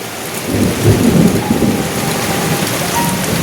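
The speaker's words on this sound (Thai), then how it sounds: "ฝนตกพี่น้องเนาะพายุเป็นลม" Heavy rain pours down steadily in a windy thunderstorm while low rumbles of thunder roll underneath, loud and close.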